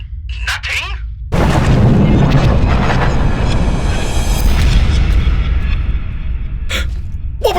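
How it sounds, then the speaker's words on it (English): A big explosion effect from an audio drama: a sudden loud boom hits after a quieter opening and rolls into a long, dense rumble that fills the rest, with brief voice-like sounds near the start and end. "It sounded kind of like a bang to me."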